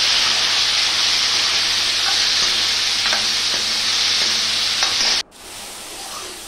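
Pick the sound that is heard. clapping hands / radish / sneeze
radish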